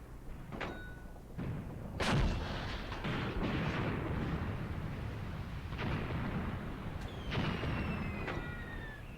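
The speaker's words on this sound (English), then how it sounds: "Here's the howitzer." Howitzer fire in the Graviteam Tactics game, set around Kharkov in 1942: several heavy booming shots with sharp onsets spaced across the stretch, over a dense rumbling battle bed, with whistling tones near the end.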